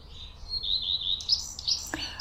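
A common redstart sings a bright, high warbling phrase nearby, followed by a few quick sharp chirps, with faint background hiss.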